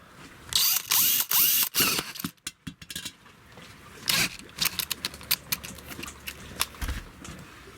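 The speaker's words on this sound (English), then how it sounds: "I've got my drill," Power drill boring a hole into the plastic storage compartment of a SeaDoo Switch, loud whirring bursts in the first two seconds, then softer ratcheting and mechanical clicks as parts are handled close by.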